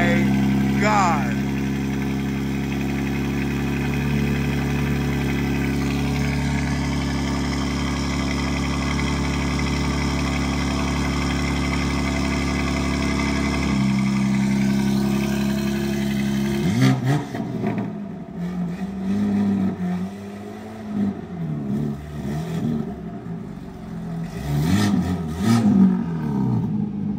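A BMW G82 M4 with a new aftermarket exhaust starts for the first time, valves open, and settles into a deep idle before blips and revs rise and fall near the microphone.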